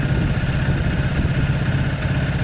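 A Zontes motorcycle engine idles with the choke on, giving a steady, close, continuous low rumble with no talking.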